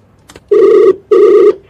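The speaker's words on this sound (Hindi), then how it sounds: "फोन मिलाओ" An outgoing phone call rings on the line: two loud, clear electronic rings of equal length with a short pause between them, alone and without speech.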